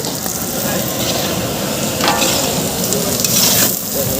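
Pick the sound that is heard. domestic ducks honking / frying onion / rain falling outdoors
frying onion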